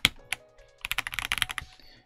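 Typing on a YUNZII KZZI Z98 Pro mechanical keyboard gives close, crisp clacky keystrokes: a few scattered taps and then a quick burst of rapid presses, with no one speaking.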